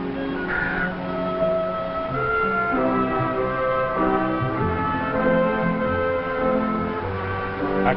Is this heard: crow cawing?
yes